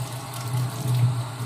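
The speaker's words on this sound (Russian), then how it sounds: "сполоснуть горячей водой" Hot water running from a tap to rinse a knife after cleaning silver: a steady, close splashing stream with no voices.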